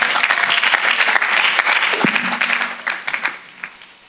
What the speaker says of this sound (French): Acclamons le Seigneur Jésus-Christ.